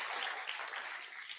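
An audience claps together at an African Liberation Day gathering in the DMV area, a brief, soft burst of steady applause with no talk over it.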